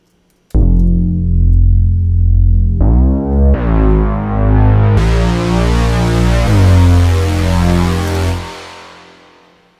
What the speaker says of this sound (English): you can hear that reverb tail and all that stuff going on.